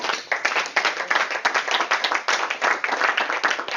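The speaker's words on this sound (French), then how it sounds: "Je pense qu'il faut l'applaudir pour ses arguments." At a Toastmasters club session, the audience claps for a speaker's arguments, a close, lively burst of many hands in quick, slightly uneven rhythm that stays loud and unbroken for several seconds.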